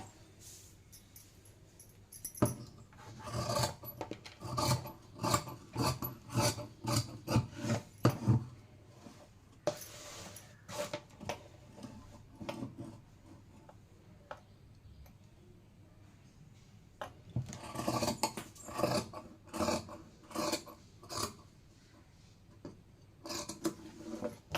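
Scissors cutting saree fabric to shape a churidar, heard as close, fairly quiet snipping and rubbing in irregular bursts with pauses between, no voices.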